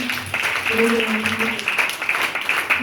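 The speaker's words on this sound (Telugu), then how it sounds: "మీరందరూ గట్టిగా క్లాప్స్ కొట్టి" An audience applauding a Sunday school children's skit, a steady spread of clapping with a voice speaking over it.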